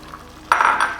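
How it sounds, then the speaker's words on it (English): Diced onion hits hot spiced oil with cinnamon stick and bay leaf for an Andhra fish curry, giving a sudden loud sizzle and clatter partway through, which then holds steady. "And now I'll add my diced onion"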